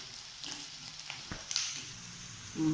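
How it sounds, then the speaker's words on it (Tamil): Onions softening in a pan for mushroom masala dosa filling, a soft, quiet sizzle with a couple of light utensil taps and a brief louder hiss near the end. "நல்லா வெங்காயம் வதங்கணும்னு இது கூட தக்காளி ஆட் பண்ணிக்கணும்"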